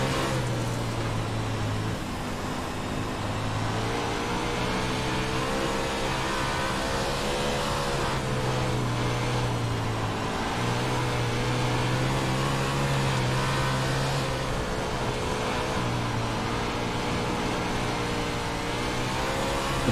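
Simulated 410 sprint car engine in iRacing at Volusia Speedway, roaring and revving hard off the start with wheel spin, a loud sustained engine note rising and falling in pitch over twenty seconds with other cars around.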